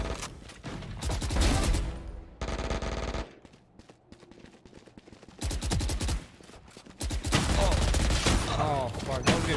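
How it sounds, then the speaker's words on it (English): Rapid automatic gunfire in Valorant rattles in loud, dense bursts separated by brief lulls, the shots close and punchy, with a voice talking briefly in the quieter gaps. "I was getting shot from both sides."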